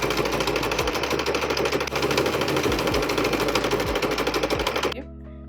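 A sewing machine stitches steadily at close range, a rapid mechanical whir with rhythmic clatter, running a few reverse stitches before it cuts off abruptly near the end.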